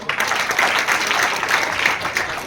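Audience applause at a college new-batch activity event with drama, songs and role play: steady, dense clapping from many hands fills the room, fairly loud and continuous with no voices over it.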